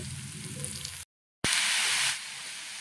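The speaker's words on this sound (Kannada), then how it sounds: "ತುರುಬಿಟ್ಕೊಂಡಿರೋ ಸೌತೆಕಾಯಿನ ನೀಟಾಗಿ ಹಾಕಿ ಮಿಕ್ಸ್ ಮಾಡಿಕೊಡ್ಬೇಕು." Grated cucumber frying in a pan gives a loud, hissing sizzle. It breaks off for a moment into silence, then returns strongly before easing slightly toward the end.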